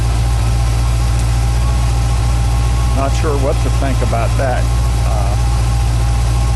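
A car engine idling with an electric fuel pump holds a steady low hum and vibration throughout, while someone talks briefly midway.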